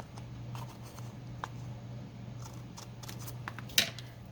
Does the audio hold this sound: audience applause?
no